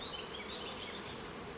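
Dense, steady buzzing of many honey bees crowded on an end frame of an opened hive, close and continuous with no voices.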